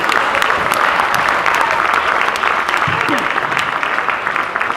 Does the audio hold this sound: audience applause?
yes